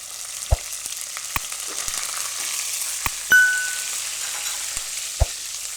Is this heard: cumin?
yes